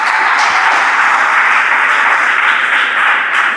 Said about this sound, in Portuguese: Palmas que louvam o Senhor da glória.